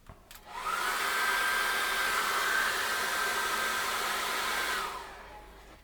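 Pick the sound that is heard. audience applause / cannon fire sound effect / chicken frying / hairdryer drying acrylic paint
hairdryer drying acrylic paint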